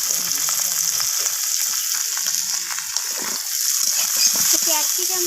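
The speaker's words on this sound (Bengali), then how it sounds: "ক্যাপসিকামটাকেও পেঁয়াজের সাথে একটু নাড়াচাড়া করে ভাজা ভাজা করে নিচ্ছি" Capsicum and onions fry in a pan, a steady bright sizzle running throughout with occasional scraping stirs, loud and close.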